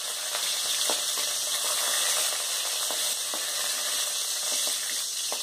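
Green chillies and curry leaves sizzle steadily in hot oil in a pan for Tamil ginger thuvaiyal, a continuous close hiss with occasional spatters and faint stirring clicks, no voices.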